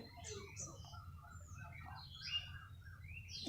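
Birds calling outdoors, with a dove among them: faint chirps and short calls scattered over a steady low background hum.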